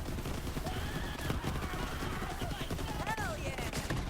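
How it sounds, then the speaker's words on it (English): Rapid gunfire rattles in the shooter Borderlands 3, a busy stream of shots mixed with game effects and chirpy tones, with a voice talking over it. "just keep firing"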